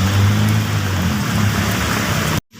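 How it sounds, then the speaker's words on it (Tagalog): Heavy rain pours down in a dense, steady roar with deep rumbling underneath, then cuts off abruptly near the end. "Grabe lakas sa ulan."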